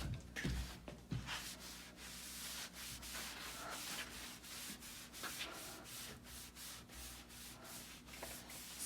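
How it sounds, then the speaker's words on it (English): Cloth rag rubbed along a ski during tuning, a steady close scraping swish with repeated even strokes and no talk. "I have this rag that I will just wipe it down with"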